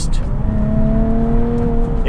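A Nissan 370Z Nismo engine pulls steadily upward in pitch as it accelerates, a smooth rising drone heard from close inside or near the car.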